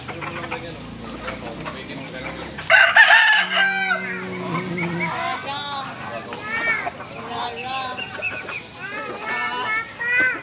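A rooster crows loudly up close, followed by chickens clucking, with people talking over much of it.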